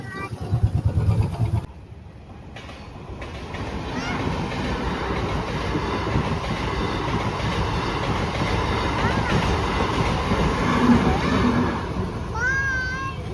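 A train rumbles steadily past close by at a railway crossing, a continuous heavy clatter of wheels lasting several seconds, mixed with nearby traffic noise.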